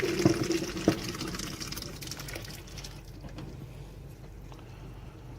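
Running water rinses cooked barley and orzo in a kitchen, a splashing stream that starts fuller and louder, then softens to a quieter steady flow.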